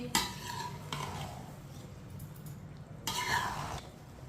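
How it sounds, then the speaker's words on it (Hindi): Rice gently mixed in a pot for zarda mutanjan, a spoon scraping and stirring in a few soft strokes separated by quieter pauses, with faint sizzling underneath. "चावलों को हल्के हाथों से मिक्स करें, टूटने नहीं देने"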